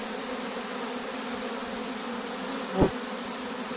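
Honeybees buzz at the entrance of a hive, a dense steady drone from many insects close by, with a single brief thump partway through.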